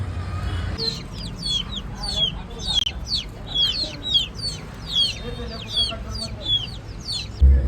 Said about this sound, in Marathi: तुषारने आणलेत कोंबडीची पिल्लं फायटर दाखवतो तुम्हाला